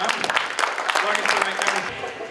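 Audience applause for a speaker being introduced at a dinner event, a dense wash of clapping from many hands filling the whole stretch at steady loudness.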